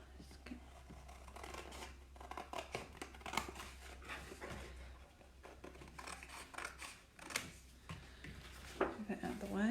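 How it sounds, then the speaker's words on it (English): Scissors snipping out small A6 paper card templates at a craft table, a run of quiet crisp cuts and paper rustles close to the microphone, with a low steady hum underneath. "I cut these out"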